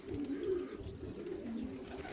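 Domestic pigeons at a loft, cooing steadily in low, throaty rolling calls, several birds overlapping close by with a faint chirp or two in the background.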